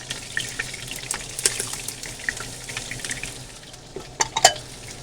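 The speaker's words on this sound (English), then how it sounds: "we'll just saute our white onion. Stir that around and add our garlic." White onion and garlic sauté in a hot pan with a soft, continuous sizzle, broken by scattered clicks and scrapes of stirring, moderately close and without talk.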